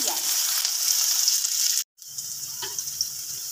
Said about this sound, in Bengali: পেঁয়াজ রসুনটা দিয়ে আমি একটু মিক্স করে নিচ্ছি। একটু ভাজা ভাজা হোক পেঁয়াজটা।